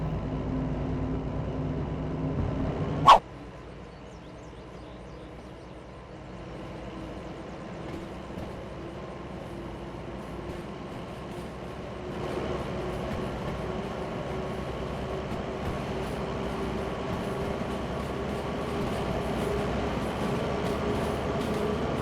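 A long freight train backs up early in the morning with a low, steady rumble and mechanical drone, after one sharp, loud clank near the start.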